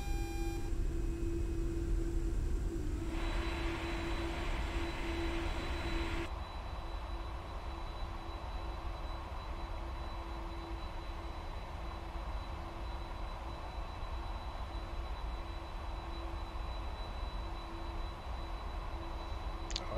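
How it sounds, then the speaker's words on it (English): A charter jet's auxiliary power unit runs steadily, a constant whine with a low rumble beneath. A brief beep opens the stretch, then the hum carries on alone at an even level. "APU's running"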